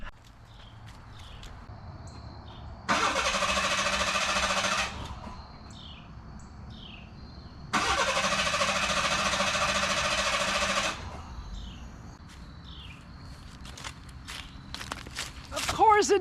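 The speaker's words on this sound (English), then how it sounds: "Of course it doesn't start! Well, at least it cranks with the key" A Ford Bronco II's starter motor cranks in two long grinding bursts of a few seconds each, and the engine never catches. Quieter rustling and clatter fill the gaps.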